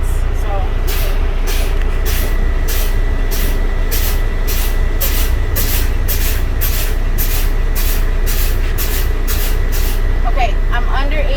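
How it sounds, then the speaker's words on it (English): Truck air brakes being fanned during an in-cab air brake test, a loud continuous hiss of released air with regular pulsing bursts roughly every half second over steady engine rumble. "Right now I'm above 80, so I will be fanning my brakes."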